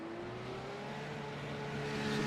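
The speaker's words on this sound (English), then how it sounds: "That was a hell of an engine noise I just heard. In the Porsche, I believe." A Porsche race car engine in the iRacing sim at Zolder drones steadily behind a safety car, a faint continuous hum that rises slightly in loudness toward the end.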